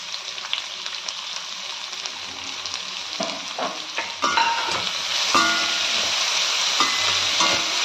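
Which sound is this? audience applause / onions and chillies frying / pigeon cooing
onions and chillies frying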